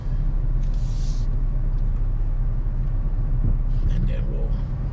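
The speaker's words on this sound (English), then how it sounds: "But let this big old truck come through first," A big truck rolls past on a road in East Naranja, Miami-Dade, Florida, a heavy, steady low engine rumble that stays loud and close throughout, with a brief hiss near the start.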